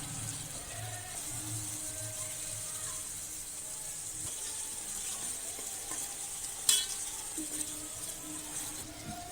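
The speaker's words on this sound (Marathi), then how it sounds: "आता यामध्ये अर्धा टीस्पून हळद घालून वाटण्याचा मसाला टाकून तो परतवून घेणार आहोत" Oil sizzles quietly as turmeric and ground pea masala sauté with tomatoes in a pan, a faint steady hiss broken by a few soft stirring knocks and one brief metallic clink.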